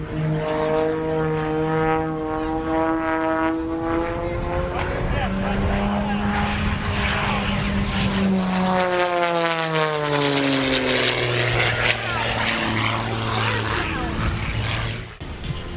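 An Extra 300 SC aerobatic propeller plane performs at the Plymouth Airport air show, its engine droning loudly and shifting pitch as it sweeps past, with a voice talking over the roar.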